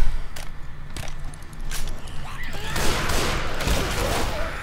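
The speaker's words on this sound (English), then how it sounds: "I love this super machine gun thing." A machine gun rattles in rapid bursts during Left 4 Dead 2 gameplay, with scattered gunfire and crashes early, then a denser stretch of firing amid chaotic game noise.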